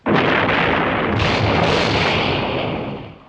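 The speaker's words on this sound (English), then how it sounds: "Our mortar has hit their mines." Mortar shells strike a minefield in a 1969 Cold War thriller, setting off a loud, sustained roar of explosions that swells and rumbles for about three seconds before tailing off.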